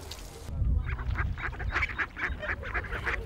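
A flock of farm ducks kept by a community working group in Nyalenda quacks and honks in a run of rapid, overlapping calls at moderate distance, following a brief burst of other sound at the start.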